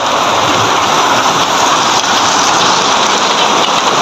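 Heavy rain pours steadily in Malaysia, heard from a room on a hillside, a dense, loud, unbroken hiss of downpour with no pauses and no voices.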